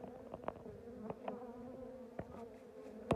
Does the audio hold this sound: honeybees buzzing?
yes